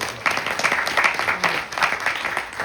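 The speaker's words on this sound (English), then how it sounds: "Give him a round of applause." Audience applause during a Navratri night gathering, a steady crowd clapping that holds at an even level with a few slight swells.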